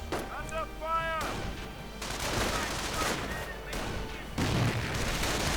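Battle noise from a 1v1 online strategy match between American and enemy forces: rattling gunfire and booming incendiary grenade blasts in overlapping bursts, with game voices calling out near the start.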